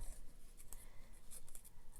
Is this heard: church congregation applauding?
no